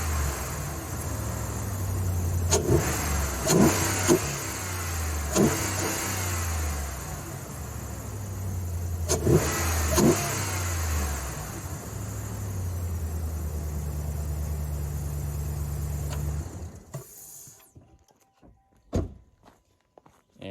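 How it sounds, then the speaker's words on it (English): A Ram 1500 pickup's 5.7 HEMI V8 fitted with a K&N cold air intake idles with a steady low rumble, then is revved in two sharp bursts, with some clunks before it shuts off near the end. "Doesn't sound a whole lot different on startup, but you can sure hear it sucking in the air when you give it some gas"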